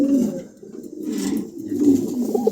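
Andalusian pigeons, including a breeding pair sitting on eggs, coo in low, throaty rolling phrases, close by with brief pauses between calls.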